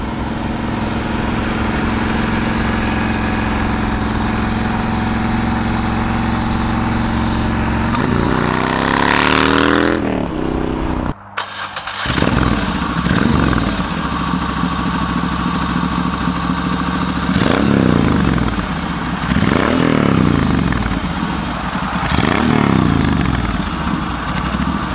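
A shed-built Moto Guzzi Le Mans cafe racer idles loudly and steadily up close, then a brief cutout and restart, followed by several rising revs of the engine.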